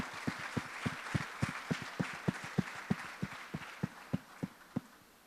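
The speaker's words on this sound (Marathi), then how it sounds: "आपण सर्वजण त्याच्यासाठी टाळ्या वाजवूयात" A church congregation at a Sunday service in Pune clapping together for a student, a slow, regular beat of unison claps, fairly soft and evenly spaced, with no talk.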